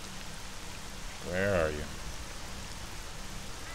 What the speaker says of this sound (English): This is actually really good rain.